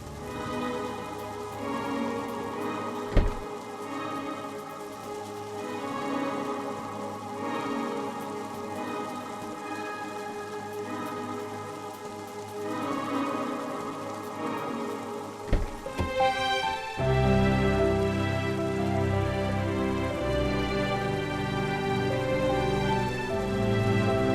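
Heavy rain drums steadily outside a car throughout, partly under music, with a sudden louder burst of rain noise near the end.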